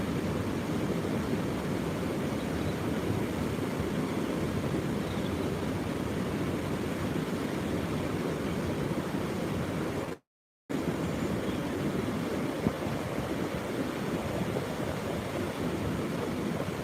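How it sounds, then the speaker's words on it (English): Strong wind blows on an embankment outdoors, a loud steady roar of buffeting with one brief dropout partway through. "Really windy."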